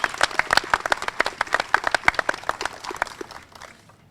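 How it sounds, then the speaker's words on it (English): Audience applause at a library and learning center groundbreaking ceremony: a small crowd claps loudly in sharp, distinct claps that taper off after about four seconds. "Big round of applause."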